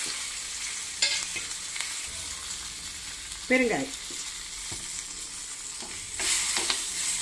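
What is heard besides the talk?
spices frying in ghee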